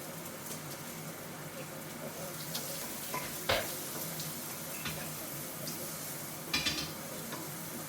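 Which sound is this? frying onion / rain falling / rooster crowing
frying onion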